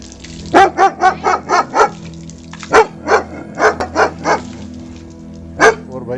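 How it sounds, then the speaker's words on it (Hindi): A dog barks loudly and insistently at the camera, in fast bursts of five or six sharp barks separated by brief pauses, close by and over a low steady background hum. "और कैमरे को देख करके कुत्ता जोर जोर से भौंक रहा है।"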